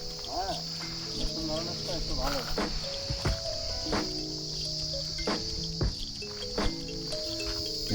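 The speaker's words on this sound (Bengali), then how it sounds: "ঝিঝি পোকার আওয়াজটা শোনো বন্ধুরা।" Crickets in the Joypur forest of Bankura keep up a steady, high, continuous drone throughout, with faint voices, bird-like calls and occasional rustling beneath.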